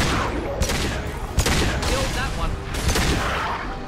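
Sustained gunfire and explosive booms in the sci-fi shooter Mass Effect 2, dense overlapping shots with several heavy impacts spaced about a second apart, loud and continuous throughout.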